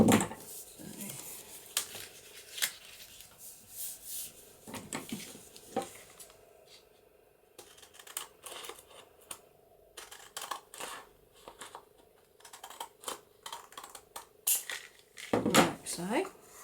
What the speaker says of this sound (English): use my pinking scissors and cut across there